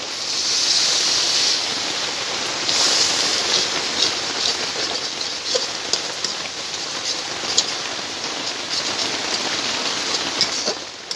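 Spice paste with cumin powder frying steadily in hot oil, a dense, continuous sizzle and crackle like rain, holding loud and even throughout with occasional sharper pops.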